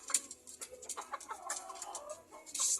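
Young gamecock stag clucking close by in a series of short, quick calls, with a few sharper chirps scattered through and a brighter burst near the end.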